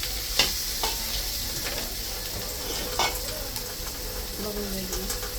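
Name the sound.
sautéing spice masala in a pan with water added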